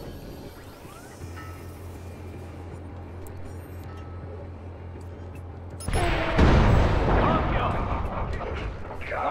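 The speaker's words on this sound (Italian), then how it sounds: "l'esplosione di quello mi sembra buona" A loud, booming explosion in the video game Watch Dogs erupts suddenly after a steady low hum of game ambience, then rumbles on with debris noise while a voice shouts.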